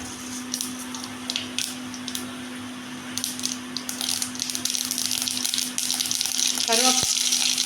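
Mustard seeds splutter in hot oil in a kadai, scattered sharp pops and crackles over a low frying hiss that grow busier toward the end, where a brief voice is heard.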